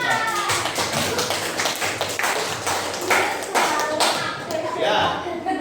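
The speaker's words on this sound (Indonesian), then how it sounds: "tepuk tangan untuk teman kita yang maju ke depan" A primary-school class in Indonesia applauding a classmate who came to the front, loud sustained group clapping filling the room with rapid overlapping claps throughout.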